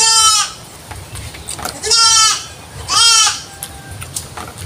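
A goat bleats three times at a home in the Philippines, loud wavering cries spaced about a second apart, with quieter background noise between calls.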